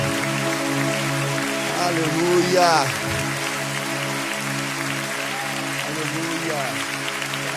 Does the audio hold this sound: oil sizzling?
no